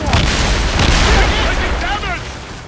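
Ship cannons in Assassin's Creed Rogue go off in a short burst of loud, close booms amid naval battle noise, with shouted voices over the top.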